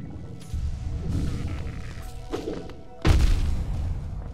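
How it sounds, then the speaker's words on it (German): Several heavy thuds and crashing bursts as eggs explode in Hollow Knight, with a loud explosive boom near the end, over a rumbling low background. "Die Eier explodieren."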